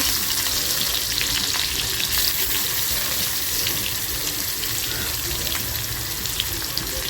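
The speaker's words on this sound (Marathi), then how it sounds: "त्याच तेलामध्ये पहिली लसूण टाकते" Garlic fries in oil left over from frying prawns, a dense continuous sizzle and crackle close by, steady throughout with a few faint clinks near the end and no voices.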